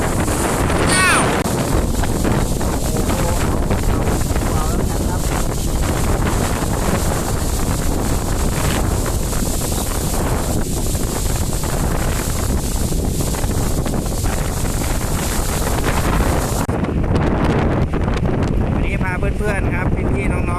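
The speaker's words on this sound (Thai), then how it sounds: "มาดูลมที่สวนลมแรงมากเลย" Strong wind gusts through a garden with banana and mango trees, a loud, continuous roaring buffet across the microphone that rises and falls in steady waves, with a voice speaking over it.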